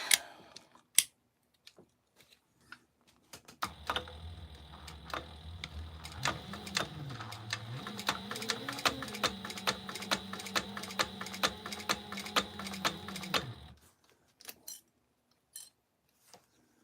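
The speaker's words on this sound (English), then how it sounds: "So now I'm just gonna top stitch this across." A sewing machine top-stitches across a crossbody bag in one sustained run of rapid ticking needle strokes lasting about ten seconds, with brief clicks before and after.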